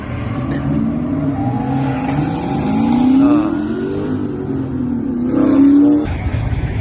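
A Ford Mustang with a Godzilla engine revs loudly and close, its pitch rising and falling through several throttle blips with a sharp climb near the end before it drops off.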